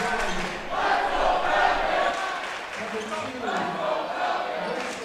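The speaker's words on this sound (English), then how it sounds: "the crowd is definitely into this game" A crowd at a high school basketball game roars and cheers steadily, a dense mass of voices rising and falling from a distance throughout, with an announcer talking over it.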